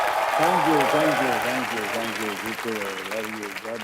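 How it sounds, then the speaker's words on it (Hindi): A studio audience claps for Dharmendra on a comedy show, with steady applause rising and settling beneath someone speaking warmly over it, close and moderately loud. "जोरदार तालियां हो जाए धर्म जी के लिए"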